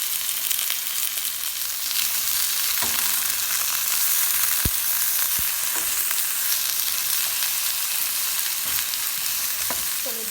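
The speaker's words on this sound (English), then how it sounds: "Stove down on low, and I'm just going to saute these vegetables." Vegetables sauteing in olive oil in a pot over a low flame give a steady, even sizzle throughout, broken by a few soft clicks of a utensil against the pot.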